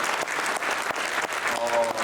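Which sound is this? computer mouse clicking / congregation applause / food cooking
congregation applause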